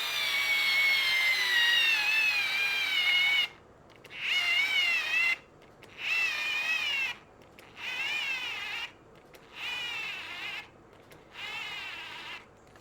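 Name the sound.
KATERK 4V cordless screwdriver driving a screw into a 2x4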